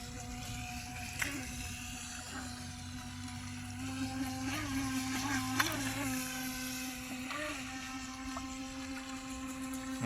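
A Flytec V009 2.4 GHz radio-controlled jet boat, rated for 30 km/h, runs on water with a steady high motor whine that surges and revs several times, heard close with no talk.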